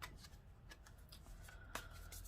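Tarot cards are shuffled and drawn by hand, producing soft close riffles and crisp card slaps and clicks at a low level, with no talk.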